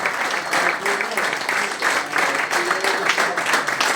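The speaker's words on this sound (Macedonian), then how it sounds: "еден аплауз за легендата на Тетекс" A crowd at a reunion of footballers from FK Teteks applauds a club legend, a steady wash of clapping that holds its level throughout without a break.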